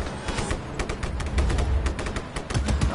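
Rapid gunfire in Just Cause 3, a dense burst of repeated shots with loud cracks and rumbling booms over about three seconds, no talking.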